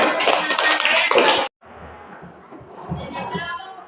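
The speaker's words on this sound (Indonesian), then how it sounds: "Tepuk tangan dulu teman-teman." Classmates clap together in a school classroom: a loud burst of quick claps lasting about a second and a half, then it cuts off and quieter chatter and movement follow.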